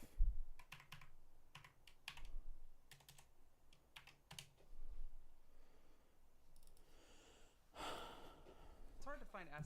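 Quiet, close typing on a computer keyboard during a game development session comes in scattered short bursts of clicks, with breathing, a gasp and a snort-like sound mixed in near the end.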